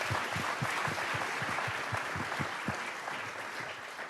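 An audience in the United Nations building claps steadily at a youth summit, a dense round of applause that fades slightly toward the end.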